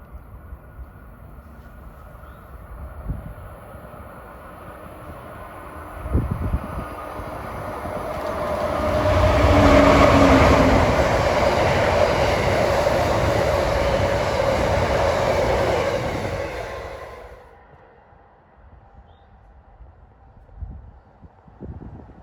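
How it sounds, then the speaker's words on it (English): Amtrak 88 approaching toward New York on a New Jersey line, a rumble that builds from distant to a loud close pass with steady wheel roar, then fades away. "And approaching at 2:20 towards New York is Amtrak 88."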